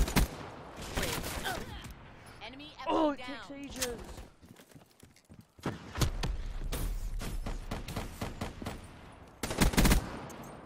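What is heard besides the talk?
gunshots in video game Black Ops 3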